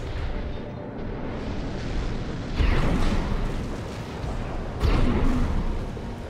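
Missile explosions in the mech combat game Armored Core 6, two heavy booming blasts a couple of seconds apart over a constant rumbling battle din, with no voices.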